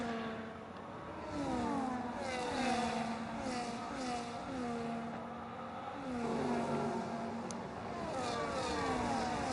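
Ferrari race car engines in an F1 racing video game at the Netherlands round, a steady high whine with repeated rising and falling revs as cars pass and shift, fairly loud and continuous with no talk.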